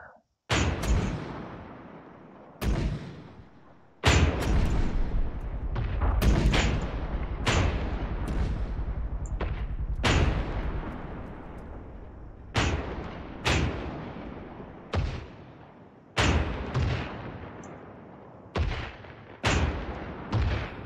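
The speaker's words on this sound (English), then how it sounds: "And the mortars all firing together." Mortars firing together in an ARMA 3 artillery mission: a series of loud, deep booms, each with a long decaying tail, spaced irregularly every second or two, some overlapping in quick pairs, with no talk.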